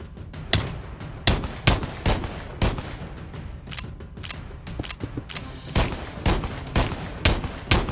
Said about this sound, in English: my gunfire attracted all the nearby zombies